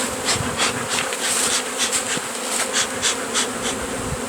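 A dense swarm of bees buzzes steadily and close during the removal of a massive beehive, with a continuous droning hum and no voices.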